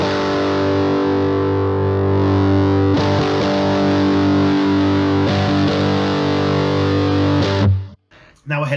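An electric guitar played through a ProCo RAT distortion pedal with the gain rolled up to a crunchy, Marshall-like tone, sustained chords ringing loud and buzzy with a few restruck changes before cutting off abruptly.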